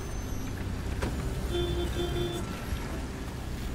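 A video game car engine's low, steady rumble drones throughout at moderate volume, with a faint tonal hum briefly rising over it.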